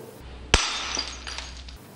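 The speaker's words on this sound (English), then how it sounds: "Later, they were made from glass tubes, which weren't very good when they fell on the floor." A glass drinking-straw tube falls and shatters on the floor with one sharp, bright crash, followed by a short scatter of tinkling fragments that fades out.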